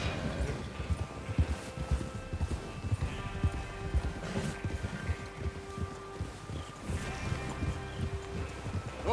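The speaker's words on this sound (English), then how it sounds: "Get your horses ready." Horses trotting in Red Dead Redemption 2, with steady clip-clop hoofbeats throughout, over a rustling outdoor background with faint ambient tones.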